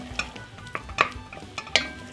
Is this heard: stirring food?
yes